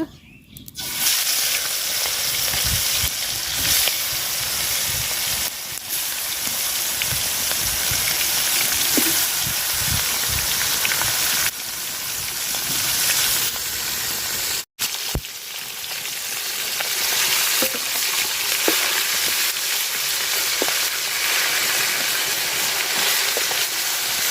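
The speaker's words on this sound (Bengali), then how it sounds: "মাছে আমি হলুদ আর লবণ মাখায় নিছি তো মাছ ভাজা নিব" Rohu fish pieces rubbed with turmeric and salt fry in oil, a constant loud sizzling hiss that runs on for a long stretch with occasional crackles and a brief break partway through.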